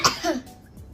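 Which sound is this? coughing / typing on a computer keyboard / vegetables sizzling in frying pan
coughing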